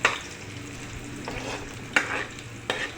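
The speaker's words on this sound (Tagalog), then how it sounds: "haluin natin ng konti" Garlic and onion fry in a pan for squid in tomato sauce, a steady sizzle broken by a few sharp spatula scrapes and clacks as they are stirred.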